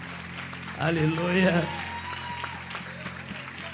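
Church congregation at a revival conference claps, a dense patter of hands with a voice crying out loudly over it before the clapping thins and fades.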